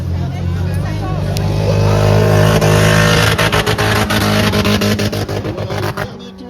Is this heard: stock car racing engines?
yes